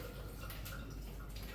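A home dishwasher running in the background, giving a steady, continuous wash of splashing water with faint drips at a constant level, no voices present.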